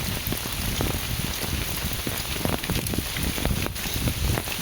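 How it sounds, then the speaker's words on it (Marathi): Heavy monsoon rain pours steadily over rice paddies in a Konkan village, a dense, loud, continuous hiss with patters of drops on nearby surfaces and no voices. "पावसाचं प्रमाण मित्रांनो वाढलं आहे आता जास्तच।"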